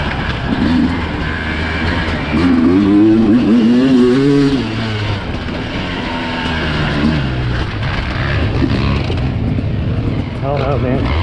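A Sherco SE300 Factory Edition two-stroke motorcycle runs at Crow Canyon, its engine rising and falling in pitch as it revs, while people talk loudly over it throughout.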